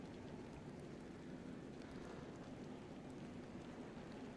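Rain in the video game DayZ pours in a constant, low-level hiss of falling drops, faint and unbroken for the whole stretch, with no speech.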